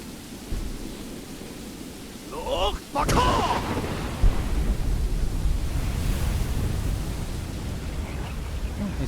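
Thunderstorm in the Skyrim video game: a sharp thunder crack near three seconds rolls into a heavy, steady rumble of rain that continues to the end, loud and unbroken, with no voices.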